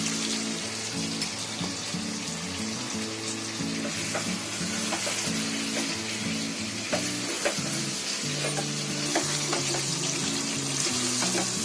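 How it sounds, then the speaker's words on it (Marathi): Continuous loud sizzling of chicken with yogurt frying in a pan over high heat, with steady scraping and stirring strokes of a spoon throughout, no voices. "मी आता पूर्ण ढवळत राहिले ना, फुल गॅसवर ढवळते"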